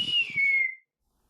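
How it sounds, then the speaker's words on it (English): A single short whistle blast, bright and clear, sliding slightly downward in pitch before stopping, with faint low murmur underneath. "I'd grab a whistle"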